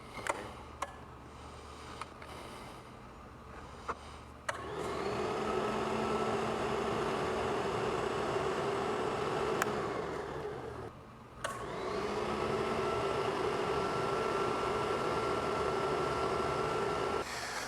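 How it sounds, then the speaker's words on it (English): An Advance floor scrubber starts up with its squeegee assembly lowered to the floor, giving a loud, steady motor whine and whoosh that drops out briefly around the middle, then resumes, with faint clicks at the start. "get in the machine, turn it on, and drop the squeegee assembly to the floor"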